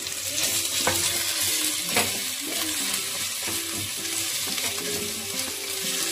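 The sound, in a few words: spices frying and stirred in pan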